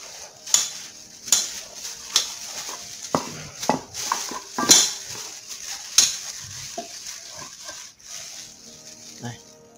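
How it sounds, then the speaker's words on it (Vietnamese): A pork hock is set into a pot for marinating and cooking, with scattered clanks, knocks and scrapes of meat and utensils against cookware. Someone talks over the handling sounds. "Bây giờ tôi sẽ đưa chân giò vào đây để chúng ta ướp"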